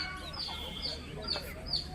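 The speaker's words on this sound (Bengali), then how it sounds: "মুরগি, হাঁস এগুলোর আওয়াজ।" Chickens and ducks at a resort near a misty lake and hills, heard as a handful of faint, brief calls and clucks scattered over a quiet outdoor background, with a soft voice in the mix.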